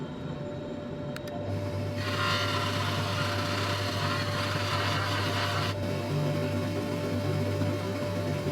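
A wooden sphere spins on a woodturning lathe while being polished, a steady motor hum with a broadband rubbing hiss that swells in the middle and then eases off, continuous and close.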